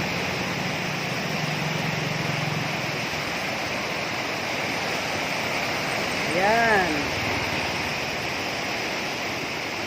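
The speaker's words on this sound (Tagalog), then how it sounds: "Ayan, tubig yan." Floodwater surges under a bridge in a constant broad roar, with someone speaking briefly over the rush and a short tonal whine rising near the middle.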